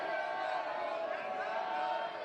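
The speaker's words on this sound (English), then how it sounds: "Crowd begging for stalling." College wrestling crowd at a CBU versus CSU Bakersfield dual meet, a steady roar of many voices calling for stalling, filling the arena without a break.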